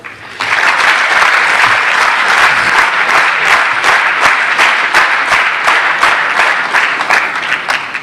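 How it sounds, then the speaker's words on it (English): A seminar audience breaks into loud, sustained applause for a speaker, a dense wash of many hands clapping that begins abruptly and keeps going steadily throughout, close and full with no talking over it. "Can we applause for him?"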